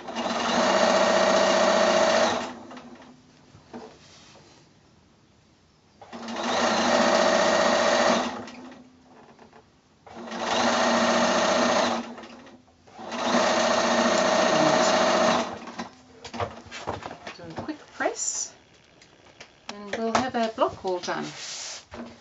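A sewing machine joins quilt block rows in four steady bursts of close, even stitching separated by pauses, followed by handling noises and a voice talking at the end.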